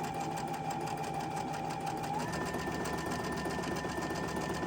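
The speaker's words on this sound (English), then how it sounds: "we're going to chain stitch all of these. One right after the other." A sewing machine chain-stitches quilt pieces in a fast, even, continuous mechanical rattle, near and steady, with a slight shift in pitch partway through.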